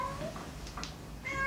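An elderly blind female cat, about 10 to 12 years old, meows faintly in a shelter over a steady background hum, with two or three short, thin calls in a brief moment.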